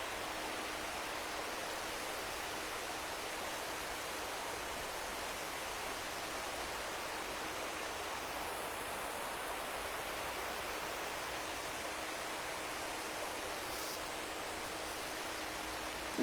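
Steady flowing water of a park stream in winter, a continuous broadband rush heard alone at a constant moderate level with no talk.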